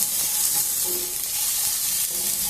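Vegetables for palak rice fry in a pan with a steady, close, even sizzle and no talking over it.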